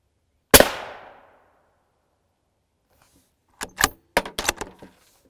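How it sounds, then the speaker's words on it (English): A single sharp gunshot strikes a Level III+ steel armor plate and rings off briefly. A few seconds later comes a cluster of quick clicks and clatters, with no talking. "I'm gonna shoot the top of the plate now."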